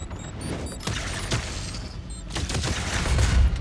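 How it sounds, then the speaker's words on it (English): Enemy gunfire in the video game DOOM: The Dark Ages, a dense stream of repeated shots and heavy impacts mixed with mechanical clanking and rumbling booms that build toward the end, with no voices. "That guy's shooting a lot of ammo."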